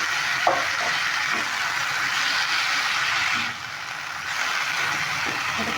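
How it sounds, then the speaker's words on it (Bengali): Potatoes and carrots sauté with spices in a pan, giving a steady, fairly loud sizzling hiss with a few soft stirring scrapes, running continuously without a break. "এবার এই মশলাগুলো দিয়ে খুব ভালো করে কষিয়ে নেবে"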